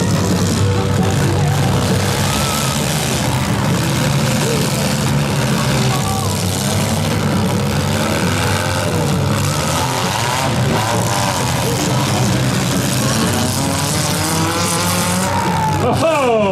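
Demolition derby mini cars at a 2024 Schomberg smash final, with engines roaring continuously and loud, crunching impacts and a car spun around, under crowd noise and announcer talk.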